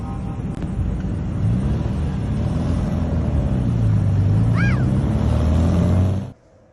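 A VW Super Beetle engine fitted with a 40 IDF carburetor idles after sitting overnight, a steady low rumble with slight fluctuation held for about six seconds before cutting off abruptly.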